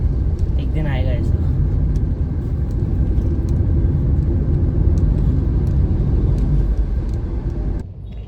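A car driving through heavy Mumbai traffic, with a loud continuous engine rumble and road noise from inside the vehicle, a brief horn-like tone early on, and the drone dropping away near the end.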